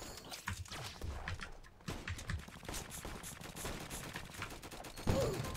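Rapid bursts of gunfire in the Roblox game Flag Wars crackle throughout, dense and repeated with short gaps, at steady moderate loudness.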